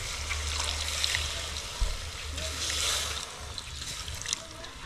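Water is poured into a cooking pot that already holds vinegar, giving a soft, steady trickle and splash that stays fairly quiet and continuous for a few seconds.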